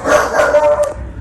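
A pet dog barks and yips indoors in a short, loud, close burst, with a whimpering edge to the sound.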